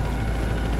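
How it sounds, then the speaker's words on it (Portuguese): Helicopter in the video game Battlefield 4, a steady low rotor drone with engine rumble holding at an even level throughout the short moment, with no voices over it. "Aquele helicóptero não parece coisa boa."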